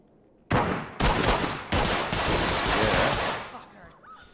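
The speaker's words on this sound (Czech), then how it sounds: "Střelba." Rapid automatic gunfire in the tactical shooter Ready or Not, loud and close, firing in several bursts that merge into sustained volleys before fading out, with no speech over it.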